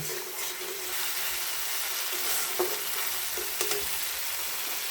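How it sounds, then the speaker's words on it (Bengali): Masala spices sizzle and get stirred in hot oil for a bean seed dal, a steady bright frying hiss with a few sharp spoon scrapes and clicks, close and alone. "এটাকে আমি মশলাটাকে ভালোভাবে কষিয়ে নেব।"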